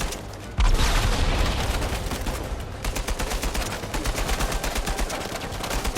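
Sustained video-game gunfire in Uncharted: Legacy of Thieves, loud and dense, with a heavy boom near the start giving way to rapid, evenly spaced automatic shots that continue without pause.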